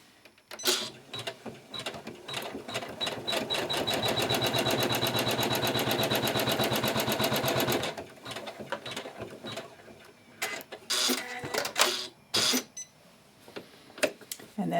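A sewing machine stitches a seam on an angel quilt square, running in a fast, even mechanical chatter for several seconds, then stopping. Clicks and handling noises follow, loud and close, with a little talking at moments.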